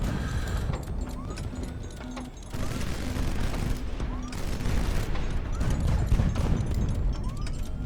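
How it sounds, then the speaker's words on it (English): Heavy guns fire in the Highfleet strategy game as a Paladin-class ship battles, a rolling series of loud booming shots over continuous low rumble and mechanical noise, with repeated blasts throughout. "Somebody's got big guns."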